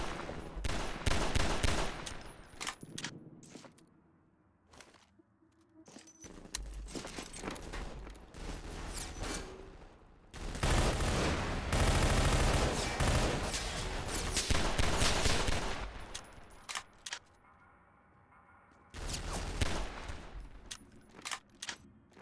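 Dense gunfire in a firefight against armed enemies in Half-Life 2 EZ2, loud rapid bursts and volleys that come in waves with brief lulls between them.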